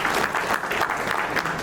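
Audience applause at a speech function honoring someone's big achievement, a steady, dense wash of many hands clapping throughout, fairly close and sustained.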